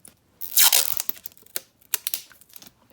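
Tape is pulled off a roll with a loud ripping screech and torn off, followed by scattered crinkles and taps as it is handled, close and alone.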